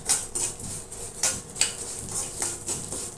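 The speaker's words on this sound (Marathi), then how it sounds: "आता याच्यावर आपण लगेच अळीम भाजून घेऊया" Garden cress seeds roasting in a spoonful of pure ghee in a pan, giving soft, sparse clinks and light pattering crackles with a faint hiss, close and quiet, without any talking.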